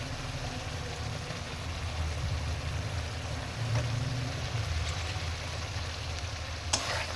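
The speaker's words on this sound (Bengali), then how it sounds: "খুব ভালোভাবে কষে নেব" Masala sizzles and fries steadily in hot oil while being stirred, a constant close crackle over a low rumble, with a couple of brief clinks of the spoon near the end.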